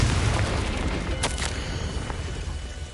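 Confringo spell explosion in the Hogwarts Legacy video game: a heavy, rumbling boom that stays loud and dense throughout, with a brief bright crackle partway through.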